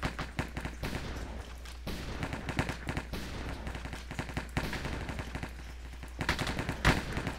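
Rapid gunfire from a pump-action gun in a Minecraft cops-and-robbers minigame, dense bursts of sharp cracking shots rattling almost continuously at close range, loud throughout with no talk over them.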